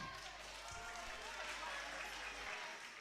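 Sunday school event audience in a church claps, a continuous, moderately loud patter of many hands under a low hum, with some background voices.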